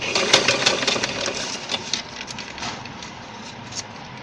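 Sewing machine stitching stretch fabric with newspaper laid above and below the cloth, a rapid rhythmic mechanical whir and clatter, strongest at first and then slowing and fading into softer intermittent stitching.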